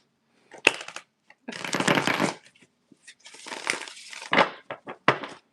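Tarot cards are shuffled in bursts of riffling and sliding, with several separate rustling passages and sharp taps between them, close and fairly loud, with no talking.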